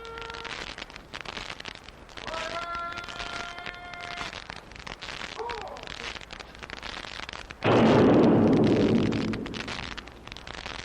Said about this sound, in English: It was time for retreat and the sunset gun.